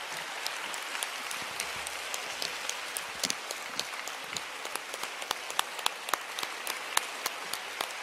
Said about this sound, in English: Let's give Ma Michelle a round of applause for hosting the event.